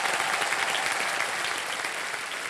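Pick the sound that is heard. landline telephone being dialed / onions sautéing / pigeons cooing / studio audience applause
studio audience applause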